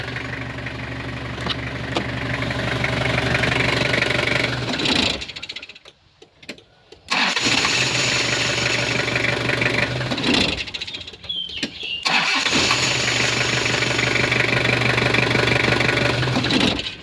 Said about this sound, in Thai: เดี๋ยวมาดับเครื่องยนต์แล้สตาร์ทให้ดูไหม